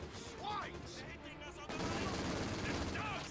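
MG42 machine gun fire in the World War II strategy game Company of Heroes 2, a steady gunfire racket that swells louder partway through, with a voice talking faintly underneath.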